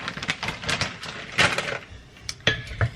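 Spoon scraping and clinking in a bowl as potatoes are stirred together with Monterey Jack cheese, a string of irregular close taps and scrapes with no talk.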